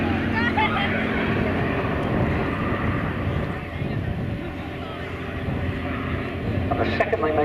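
A Bristol biplane flies at a Shuttleworth air show, its steady engine drone and wind rush filling the scene while a commentator talks over it.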